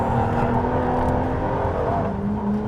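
Ferrari LaFerrari engine pulling hard on a road, a steady loud droning roar with a smooth, sustained tone that holds through without a break.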